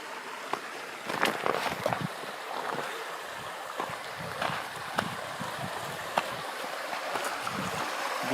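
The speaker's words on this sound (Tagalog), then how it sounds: "Diyan sa umaagos na tubig na yan." Outdoor flowing stream water, a steady rushing wash with scattered splashes and gurgles, fairly close and continuous without talk.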